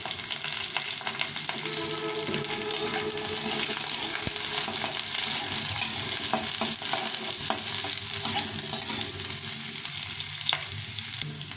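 Diced potato and a large carrot fry in oil in a pan, stirred steadily with a spatula: a continuous close sizzle broken by scraping clicks and knocks throughout, with no voices.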